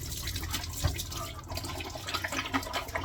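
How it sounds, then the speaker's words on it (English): Tap water runs steadily into and through a slim, flat stainless steel water bottle as it is rinsed out, a continuous close splashing and gurgling with no voices. "Rinse it out with water to get rid of the vinegar that's left over inside."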